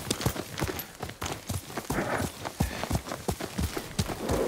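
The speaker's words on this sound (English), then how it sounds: "Yuriko's horse." A horse's hooves clip-clop in a steady, quick rhythm in the video game Ghost of Tsushima, sharp and close over a low rumbling backdrop, with no one talking.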